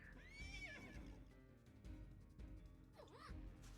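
A horse whinnies loudly in the Princess Peach Showtime video game, with a drawn-out neigh at the start and another near the end, over steady game music and faint hoof clops.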